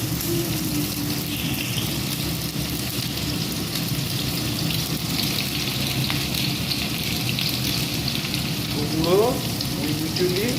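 Pui mituli, a dish of Malabar spinach, cooking in a pan: a steady, continuous sizzle and bubbling runs throughout at an even level, with no talk over it.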